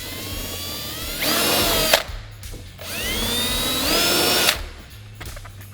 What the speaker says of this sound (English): Now we're going to go ahead and drill our final two holes.